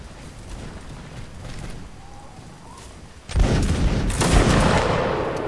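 A musket volley fires in Mount and Blade: Napoleonic Wars, a sudden loud rolling burst of many overlapping shots over a few seconds after quieter battlefield ambience, with more crackling shots close behind.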